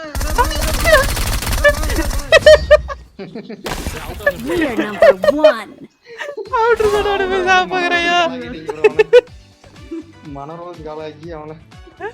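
Gunfire in a shooting video game, heard as bursts of shots and sharp impact cracks mixed with game effects, with voices talking over much of the action.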